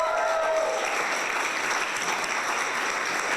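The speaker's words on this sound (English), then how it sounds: "Give them a round of applause." An audience at a live stand-up comedy festival in Medicine Hat bursts into loud, sustained applause that fills the whole moment, with a brief voice at the very start.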